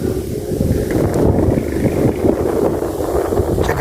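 Strong wind at a tilapia fishing spot after rain batters the microphone in a continuous loud low roar with rough gusty texture and no voices.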